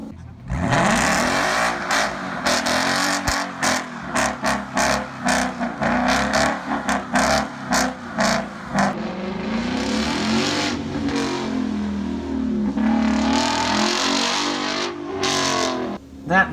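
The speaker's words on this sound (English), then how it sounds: "The Mustang also started to improve from its morning trepidatious lap times as the evening went on" A 500-horsepower Ford Mustang with a 6-speed manual runs autocross laps, its engine revving hard in rapid rises and drops with quick shifts, loud and close throughout.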